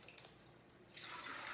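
Cloudy rinse water is swirled in a glass jar of sprouting lentils and then poured out. A few faint drips are followed by a soft, steady gush of water near the microphone, all quiet and without talk.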